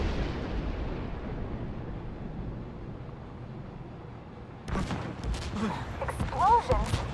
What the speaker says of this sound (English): Explosion? What the hell?